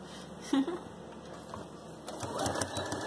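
A home sewing machine backstitching a seam on a small bootie, a short close mechanical whir and rattle that picks up near the end, with brief speech at one point.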